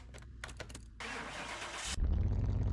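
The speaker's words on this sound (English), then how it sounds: "But let's get this one started up." A Ford Mustang SVT Cobra R engine in Car Mechanic Simulator 2021 cranks with a few starter bursts, catches with a loud roar, then settles into a deep, steady idle grumble.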